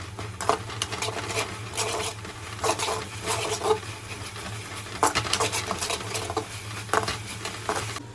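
Cabbage Manchurian mixture fries over a low flame while a spoon stirs it in the pan. Rhythmic scraping strokes ride over a constant soft crackle and patter.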